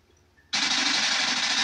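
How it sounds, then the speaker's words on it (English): In the Call of Duty video game, a machine gun suddenly opens up after a quiet moment, a loud, unbroken stream of rapid gunfire that keeps going to the end without any speech. "Finally, I'm on this big old machine gun."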